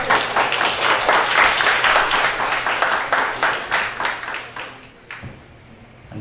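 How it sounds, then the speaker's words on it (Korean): A school audience at an admissions open day claps to welcome a teacher representative, a loud, close wash of many hands that keeps steady, then thins out and fades near the end. "큰 박수로 맞이해 주십시오"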